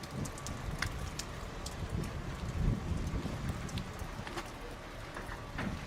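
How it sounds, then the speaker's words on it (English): Heavy rain falls steadily outside a house during a thunderstorm, a continuous dense hiss with low rumbling swells and a few faint scattered knocks, no voices. "It was raining heavily outside."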